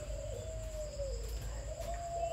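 A pair of spotted doves coos in a slow, steady rhythm, fairly close and clear over a low, constant background hum, with no voices.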